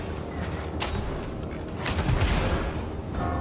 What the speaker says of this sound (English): She can summon an ice explosion,